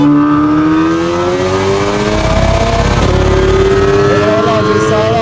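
A tuned stage 2 VW Golf 8R with 480 HP accelerates hard in a roll race, its engine note climbing loudly and steadily through the gears, close and dominant, with faint talk underneath.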